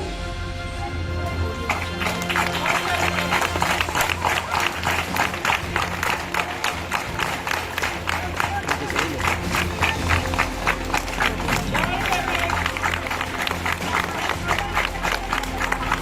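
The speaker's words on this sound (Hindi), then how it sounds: "कम से कम तालियों में कमी मत करिए, तालियां बजाते रहिए लगातार" An audience at a school prize-giving ceremony applauds steadily, a sustained wash of many hands clapping with no break, from a fair-sized crowd.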